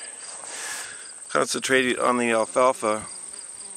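Bumblebees buzzing among alfalfa beside a Minnesota cornfield, a steady faint hum that runs throughout beneath someone talking in the foreground.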